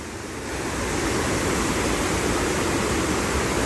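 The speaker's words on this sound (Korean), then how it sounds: "물소리가" Rushing stream water on the Gayasan Sorigil trail, a steady broadband flow that swells in the first second and then holds loud and close without a break.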